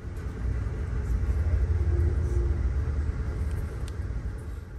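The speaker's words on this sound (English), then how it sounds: "you can hear the sound of a diesel engine coming from the leading P32AC" A deep, steady diesel engine rumble from a leading GE P32AC locomotive on an Amtrak Empire Service train rolls past nearby, low and droning throughout, with faint higher squeaks over it.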